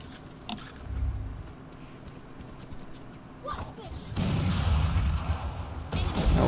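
Gunfire punches through a wall in Valorant on the Haven map: a few sparse, muffled shots, then a denser, louder stretch of fire near the end, heard under ongoing talk.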